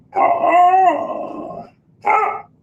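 In a radio advertisement for a dog product, a dog lets out a loud, close, drawn-out howling bark lasting over a second, then after a short pause gives a single shorter bark.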